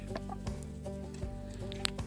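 Chickens cluck softly in short, scattered calls over a low steady hum, with a few light taps and scratches nearby.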